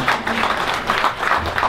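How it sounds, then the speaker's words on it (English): Applause for an author at a book party for a Japanese American food book: a dense, steady wash of many hands clapping at once, moderately loud and continuous, with a faint hint of voices beneath. "So please give Gil Asakawa a big round of applause."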